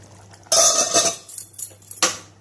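A lid set onto a pot of village-style crab gravy makes a loud metallic clatter and rattle, followed by a second, sharper clink a moment later, close by with no talking.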